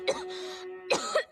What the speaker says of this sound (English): It was just a little cough.